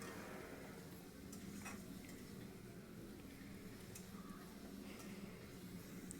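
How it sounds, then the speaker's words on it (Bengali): A cabbage masala mixture is sautéed in a pan with a soft, low sizzle, broken by scattered light scrapes and clicks of a utensil. "ভালো করে মিশ্রণটাকে আমি কষিয়ে নিচ্ছি"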